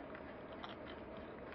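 Crunchy croutons being chewed close up, a steady run of dense, crackling bites and crunches with no talking.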